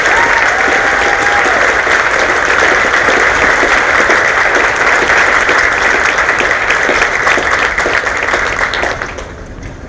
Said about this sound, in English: So if we give them one more big round of applause.